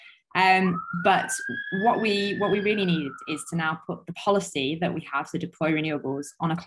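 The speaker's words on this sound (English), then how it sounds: "Sorry for the sirens." A siren sweeps in a long rising-then-falling tone behind continuous close speech, a passing emergency vehicle outside heard under someone talking throughout.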